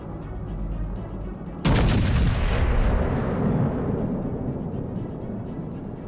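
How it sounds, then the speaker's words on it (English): Warship artillery fire in World of Warships: Legends: one sudden, loud naval gun blast with a long rumbling decay, after a quieter stretch of low background drone. "Concentrate fire on the enemy warship."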